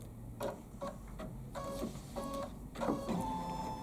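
An embroidery machine stitching down a quilt project, with quiet, rapid mechanical ticking and whirring in short bursts and pauses, close and fairly faint, with no talking.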